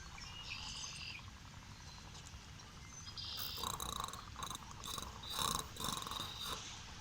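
Frog giving a snoring call outdoors at night, a faint rasping pulsed rhythm amid crickets and insects, with a slightly stronger burst of calling in the second half.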